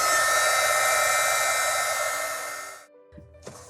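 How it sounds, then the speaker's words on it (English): A heat gun blows a loud, steady airy roar while heat sealing cosplay foam armor, then cuts off near the end, leaving a short quiet gap and a few faint small noises. "you're gonna want to heat seal with a heat gun or an embossing tool"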